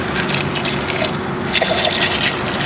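Clean diesel fuel pours from a beaker to rinse out a fuel filter, giving a steady, close liquid fill sound with a few drips that runs for the whole stretch without a break.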